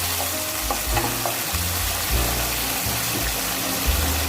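Chopped onion frying in hot vegetable oil, a steady close hiss and crackle with occasional soft stirring scrapes and knocks throughout.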